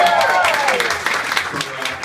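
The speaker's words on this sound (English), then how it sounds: "Big round of applause for Gina Liano." Applause for Gina Liano at her VIP book launch in Melbourne, a close crowd clapping loudly and continuously under a voice speaking briefly at the start.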